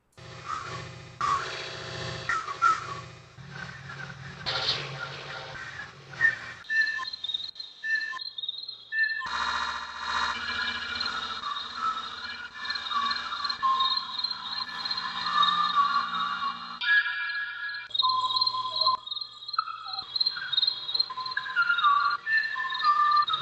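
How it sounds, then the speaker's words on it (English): Machine-generated, bird-like song: warbling, whistly synthetic tones and chirps running continuously throughout, moderately loud, with brief gaps and no talking. "it sounded like a bird trying to sing through a machine song"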